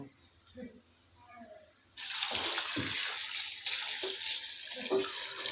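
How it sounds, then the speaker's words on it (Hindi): Water poured into a pot of beef paya with onion, tomato and green chilli: after quiet kitchen sounds, a strong splashing pour starts abruptly and runs steadily to the end, close and loud, with a few knocks underneath. "देखें, इतना पानी डालें पाए इनमें डूब जाएं।"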